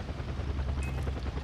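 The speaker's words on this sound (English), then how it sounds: "Oh, another chopper, great." Helicopter in the video game Far Cry 4, a steady low rotor drone that fills the short stretch at an even, moderate loudness with no talk.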